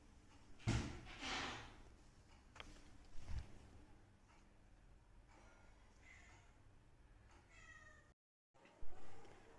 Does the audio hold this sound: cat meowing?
yes